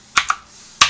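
Computer keyboard typing in a CAD session, a few sharp close keystrokes in two quick pairs separated by a short pause.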